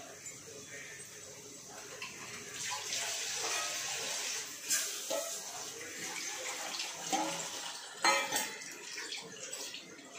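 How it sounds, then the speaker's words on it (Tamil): Tap water running into a vessel to soak rice for vegetable biryani, a fairly faint continuous splashing stream with a few clinks of the pot, and a voice talking over it. "நான் இப்போ தான் நான் அரிசியை ஊற வைக்க போகிறேன்"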